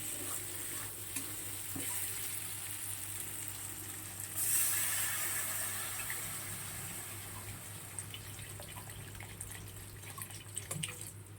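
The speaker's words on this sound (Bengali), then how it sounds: "এবার এটা জল দিয়ে দেবো পরিমাণ মতন, যতটা জল লাগবে ততটাই দেবো।" Water is poured into a simmering soybean and potato curry, a steady splashing rush that starts midway and gradually tapers, over low kitchen background noise with no talking.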